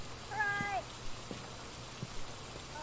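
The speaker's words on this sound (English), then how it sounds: "It's raining." Soft, steady rain hisses in the background of the video game Phasmophobia, with a short meow-like squeak near the start and a few faint taps.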